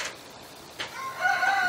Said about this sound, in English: Some of you like hearing the roosters in the background